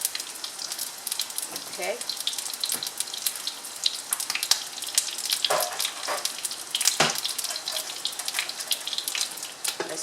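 Eggplant pieces frying skin side down in a pan give a steady close sizzle with crackling pops throughout, under a brief spoken word.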